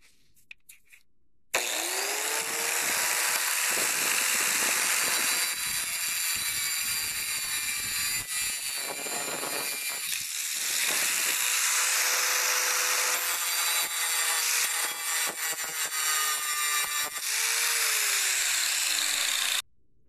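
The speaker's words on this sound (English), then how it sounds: "first I'm going to slice through it to get rid of the part I don't want, and then we're going to grind off the rivet there" A number 35 roller chain is sliced through and then a rivet is ground off, with a steady, loud power-tool whine of cutting and grinding running about eighteen seconds, its pitch dipping and recovering as the tool loads up.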